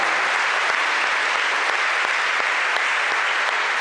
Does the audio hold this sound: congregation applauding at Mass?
yes